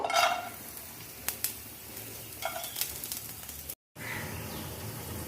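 Chopped garlic sizzling in about one and a half spoons of oil in a pan for chilli egg, a soft, fairly quiet hiss with a few sharp scrapes and crackles and a brief gap near the end.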